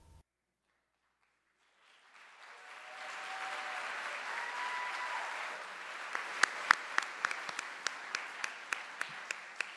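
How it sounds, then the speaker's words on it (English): Audience applauds teachers at a Golden Apple 2022 awards event; after about two seconds of silence, a broad wash of clapping swells and continues, with a few sharp, close individual claps standing out near the end. "give that impressive group of teachers another round of applause, but you beat me to it"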